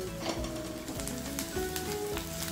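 Onion browned in oil sizzles steadily after turmeric and red chili powder go in, a close continuous frying hiss with faint stirring scrapes and no voices.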